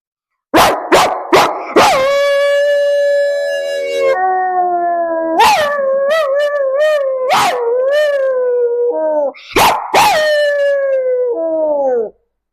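A person imitates a dog, starting with a few sharp barks, then drawn-out wavering howls broken by more barks, loud and close.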